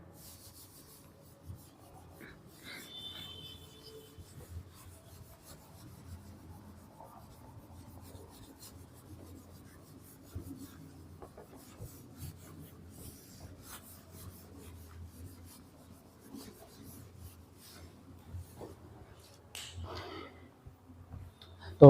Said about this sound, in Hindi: इसे पहले रब कर देते हैं।